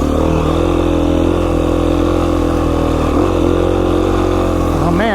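A Beta 500 RR-S dirt bike climbing singletrack toward a mountain lookout in Idaho: a loud, close, steady engine drone throughout, with a brief rise in revs near the end.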